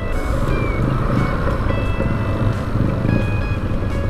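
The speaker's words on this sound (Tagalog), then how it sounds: "Parang nagkakagulo yung mga sakyan dito." Congested city street traffic near a riverside esplanade, with a steady roar of cars and trucks and a repeating reversing beep tone cutting through at intervals, close and loud throughout.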